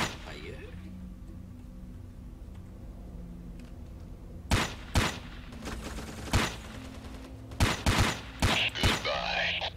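Gunfire in Ghost Recon: after a quiet stretch of low ambience, a run of sharp, loud shots breaks out, single cracks and quick clustered bursts close by through the latter half.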